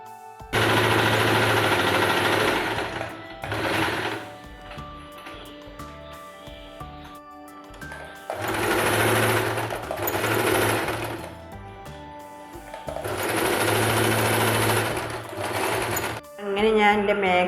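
A sewing machine stitches fabric in three long loud bursts of steady whirring, separated by brief pauses with quieter handling sounds, close to the microphone.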